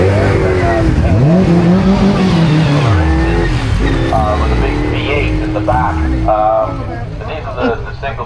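F5000-spec single-seat race car at the Prescott hill climb, a loud close engine note rising and falling through gear changes with a tyre squeal, then fading as it pulls away, with a voice talking over it.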